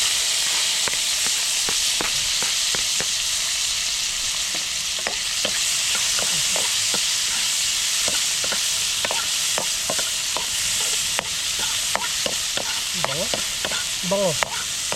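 Garlic, onion and ginger sauté in a pan under a steady close sizzle and hiss, with frequent spoon scrapes and clacks stirring throughout. A voice is faintly heard now and then.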